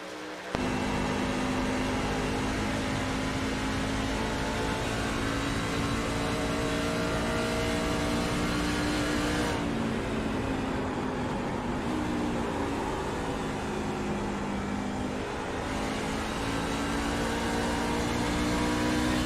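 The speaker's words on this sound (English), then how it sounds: "I think Adam is downshifting at 1 and 2 as well" Simulated race truck engine in iRacing on the Twin Ring oval, droning loud and steady throughout with pitch shifts as the truck downshifts around the corners; no voices.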